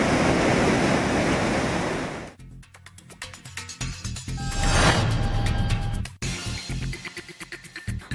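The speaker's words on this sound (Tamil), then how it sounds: "திருப்பரப்பு நீர்வீழ்ச்சியில் தண்ணீர் ஆர்ப்பரித்துக் கொட்டுகிறது" Water crashes at Thirparappu waterfall in a loud, steady broadband roar for about two seconds, then gives way to quieter, choppier mixed sounds.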